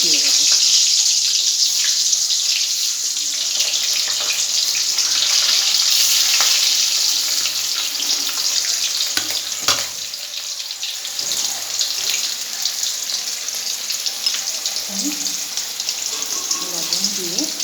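Potato pieces fry in hot oil for a homemade biryani, a steady bright hiss with scattered crackles that softens slightly midway, with faint background sounds underneath.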